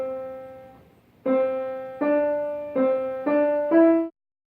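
Evenly spaced triplet notes on a pitched instrument, fitting three notes into the space of two, after a sustained opening tone, each clear attack decaying before the next, moderately loud and alone.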